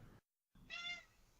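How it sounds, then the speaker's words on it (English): A cat in a graveyard lets out one short, faint meow after a brief silence, set against quiet ambience. "There's a cat here. There's always a cat in the graveyard."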